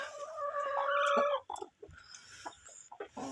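A broody Kuchinsky Jubilee hen clucks close by in short, throaty bursts, one drawn-out call and then a few quieter clucks, with no talking.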